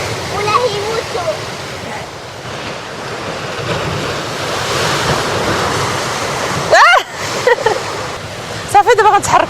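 Sea waves wash steadily onto a beach, close and loud, with wind buffeting the microphone. Brief voices break in near the end.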